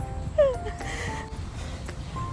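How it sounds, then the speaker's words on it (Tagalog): A dog gives a brief whimpering yip, a single short rising whine standing clearly above steady outdoor background noise on a street walk. "Tingnan mo, meron silang aso."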